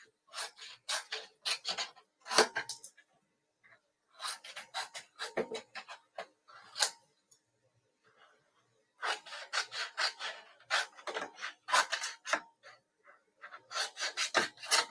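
Scissors snip through material in bursts of quick, rasping cuts, several short runs separated by pauses, close and fairly quiet with no talking.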